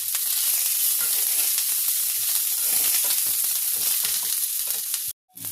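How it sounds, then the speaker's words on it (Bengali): Green chili and ginger sizzle steadily and loudly in a hot pan of oil, a constant frying hiss with faint stirring, cut off abruptly near the end. "এবার এর মধ্যে আমি কাঁচা লঙ্কাটা দিয়ে দিলাম"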